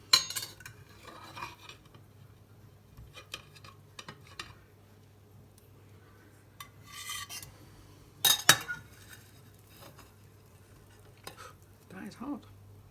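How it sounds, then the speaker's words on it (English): Miso aubergine and fondant sweet potato plated up with Brussels sprouts and carrots, cutlery scraping and clinking on dishes in scattered bursts over a low steady hum. "So let's plate some up then."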